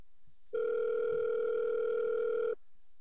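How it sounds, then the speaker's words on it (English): A telephone sounds a steady electronic tone for about two seconds for an incoming call. The tone is loud and continuous, with quiet room sound before and after it. "We're getting a phone call."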